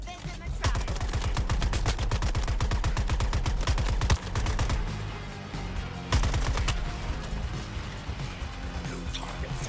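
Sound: gunfire in video game Suicide Squad Kill the Justice League

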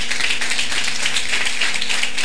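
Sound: applause

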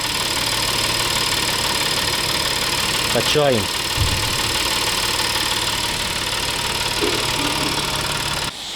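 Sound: car engine idling

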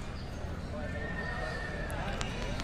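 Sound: horses at a livestock fair

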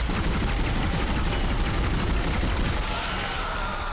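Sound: gunfire in the video game Dead Space

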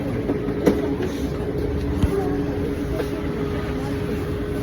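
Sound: metro train riding through the subway

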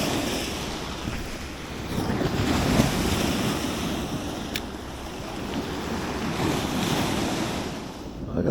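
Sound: sea waves and wind

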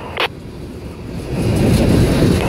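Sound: GE CW40-8 and EMD SD50-3 locomotives rumbling past

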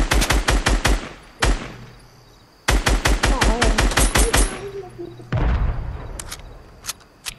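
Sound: gunfire in the video game Fortnite

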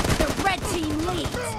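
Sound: gunfire in video game PUBG Mobile

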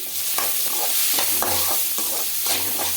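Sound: frying onions and garlic in oil

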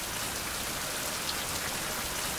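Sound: rain falling on a surface

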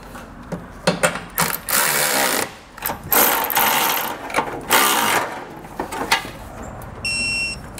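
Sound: ratchet tightening factory nuts on Mercedes-Benz GLA hitch

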